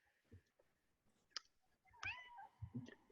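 A pet cat meows once, short and close, in a quiet indoor room, preceded by a few faint clicks and soft rustles.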